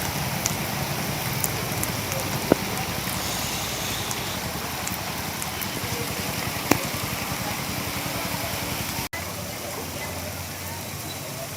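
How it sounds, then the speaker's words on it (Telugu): Heavy rain falls in Vijayawada, a dense, steady hiss of downpour on surfaces that stays loud and unbroken throughout, with a couple of faint clicks. "ఒకసారి అక్కడ కురిసిన వర్షానికి సంబంధించిన దృశ్యాలు చూద్దాం."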